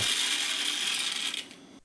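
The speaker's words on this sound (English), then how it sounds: "unscrew the lid. Now listen, it's going to have some vacuum in there" A Ninja 900W Nutri-Personal blender cup has its lid unscrewed, letting out a steady, close hiss of escaping vacuum that lasts about a second and a half before quickly tapering off.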